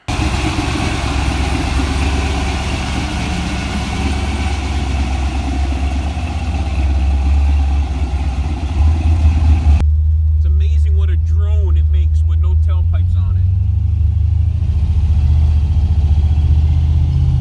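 A 1965 Mercury Comet engine runs with no tailpipes fitted, giving a steady, loud, low idle rumble throughout, with a voice speaking briefly over it partway through.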